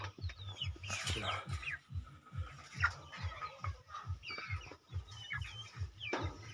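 Chickens cluck in a steady series of low, rhythmic calls, with occasional higher bird chirps and squawks mixed in nearby.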